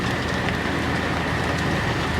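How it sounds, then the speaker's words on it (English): Steady rain falls outdoors, a dense continuous hiss of drops on surfaces with no pauses, loud and close throughout. "it's already started raining"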